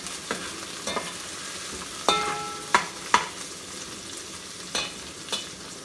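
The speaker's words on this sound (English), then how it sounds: "The onion also is there. We'll let it cook a little bit." Onion cooking in a pan for milkfish sinigang gives a soft, steady sizzle, broken by several sharp clinks and scrapes of a utensil stirring against the pan.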